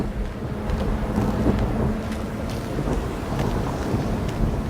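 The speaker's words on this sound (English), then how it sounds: "Belfry wasn't kidding about this storm." Storm wind roars steadily in a video game, a dense, continuous rushing noise with low rumble that holds at an even, fairly loud level throughout without breaks.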